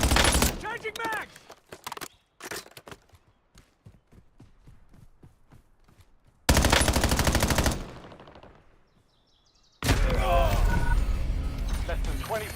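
Rapid bursts of automatic gunfire from a multiplayer shooter such as PUBG or Warzone, loud dense volleys broken by quieter stretches of single shots and clatter, with a voice calling out between bursts.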